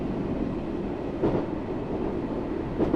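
Class 484 electric train running in a train simulator game on the Island Line, a rebuilt D78 stock unit; a steady low rumble and hum of motion with faint rail clatter throughout, continuous and even with no talk.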